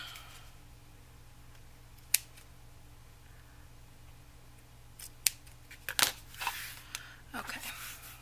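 Scissors trim paper for a handmade journal at close range: a single crisp snip, then a quieter stretch, then a cluster of sharp cuts with soft paper rustling over a faint steady background hum.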